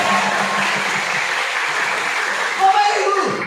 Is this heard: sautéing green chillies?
no